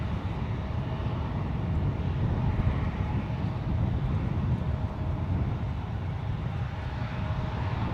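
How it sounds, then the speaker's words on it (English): A JetBlue Airbus A321 rolls down runway 1 right on departure to Fort Lauderdale, a steady broadband engine roar with low rumble and wind noise holding loud and constant throughout, no voices. "Rolling down runway 1 right. This is JetBlue Airways flight 578 departing to Fort Lauderdale."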